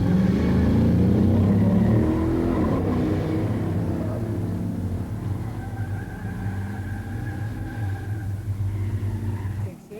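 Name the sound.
drag race launch, 71 Trans Am 455 HO vs 70 Buick GSX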